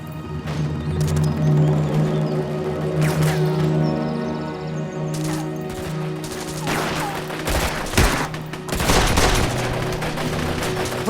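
Heavy gunfire crackles through a firefight in a dramatic ambush, with rapid bursts and sharp single shots overlapping at close range throughout and loud impacts in the second half.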